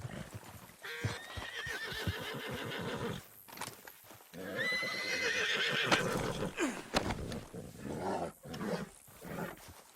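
A horse neighs and whinnies repeatedly, with hooves clopping, amid effects and shouting in Red Dead Redemption 2 on PS4; loud and close, with brief quiet gaps.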